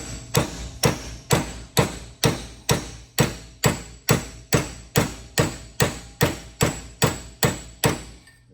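A hammer whacks repeatedly on the front suspension of a 1959 Ford Fairlane while the left front upper arm and center link idler are being replaced: about fifteen sharp metallic blows in an even, steady rhythm, close and loud, with no talking.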